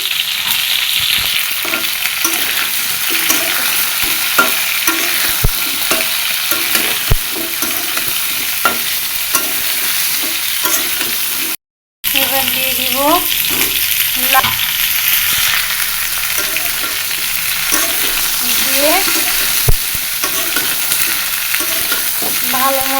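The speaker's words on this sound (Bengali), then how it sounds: "অনেকটা ভাজা হয়ে গেছে এখন দিয়ে দিলাম পটল" Vegetables fry and are stirred in a pan while pointed gourd goes in, a steady loud sizzle with repeated scraping stirs throughout, a brief dropout near the middle, and clattering spoon strokes after; no talking.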